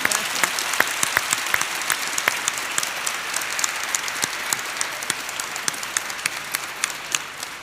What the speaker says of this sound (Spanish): eso merece, yo creo, un aplauso, ¿no?